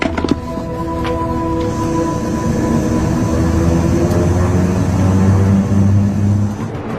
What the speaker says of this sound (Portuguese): Às 14 horas e 22 minutos, o voo 267 decola.